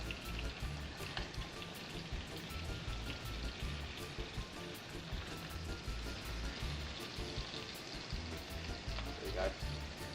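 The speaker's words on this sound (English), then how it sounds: "Start frying the other side." Chicken pieces fry in a hot pan, giving a steady, dense sizzle and crackle, close and continuous throughout, with a brief spoken remark over it.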